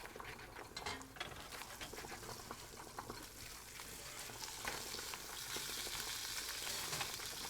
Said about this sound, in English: Dude is frying up some stuff.